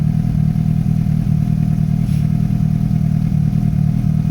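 A Suzuki GSX-S750 motorcycle engine runs steadily while being ridden around the block on choke, giving a constant loud low drone with a slight rattle and no speech.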